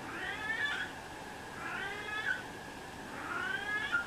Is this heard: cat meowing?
yes